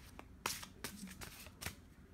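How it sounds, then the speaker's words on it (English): Oracle cards being shuffled by hand, a brief, quiet series of crisp riffling slaps and soft flicks up close, with no talking. "Let me get some oracle cards here"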